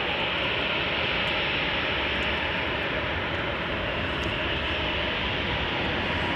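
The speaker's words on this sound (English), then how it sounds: "Another Dreamliner." A Boeing Dreamliner jet airliner at Chicago O'Hare, a dense continuous engine roar at steady loudness, broad and unbroken for several seconds, with no voices.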